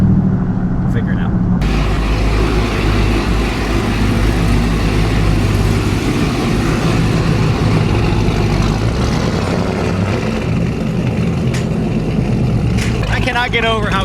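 Cammed family pickup truck with cylinder deactivation deleted idling with a loping, choppy rumble, loud and continuous close by, with people talking over it.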